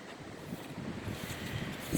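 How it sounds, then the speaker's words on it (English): Wind gusts buffet an outdoor microphone, a steady low rumbling roar that swells slightly and peaks near the end, with no talk over it. "my wind's going to pick up again"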